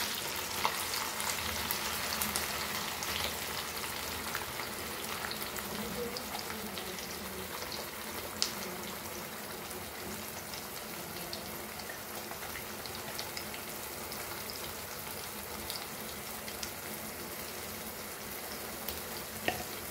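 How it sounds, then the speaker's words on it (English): Masala paste for Goan prawn masala frying over a medium flame in a pan, a dense, steady crackling sizzle like light rain that continues for the whole stretch, with occasional small pops and no talking. "And we will fry this masala nicely"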